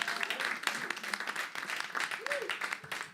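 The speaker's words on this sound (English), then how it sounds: "One more round of applause." A small live audience claps after a songwriter performance, scattered and moderate at first and then building, with voices talking and calling out through the applause.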